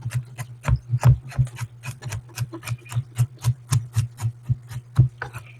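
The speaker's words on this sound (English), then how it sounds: "And then just cut the carrot." Knife chops a carrot on a cutting board in a steady series of about twenty crisp, evenly spaced thuds, close and clear with no talk.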